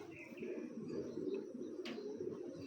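A pair of old Babu breed pigeons coo softly and steadily, faint and close, with a brief chirp near the end.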